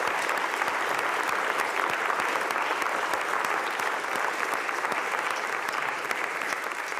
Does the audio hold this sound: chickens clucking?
no